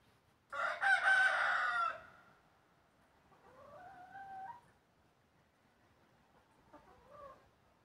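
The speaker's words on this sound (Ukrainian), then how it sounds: "От такі-то у нас кури." A rooster crows loudly once, then hens give softer drawn-out clucks and calls at a moderate distance, with no talking.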